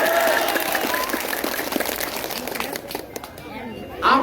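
A rally crowd at an election campaign event applauds in a dense, continuous wash of clapping, close and loud, with voices mixed in.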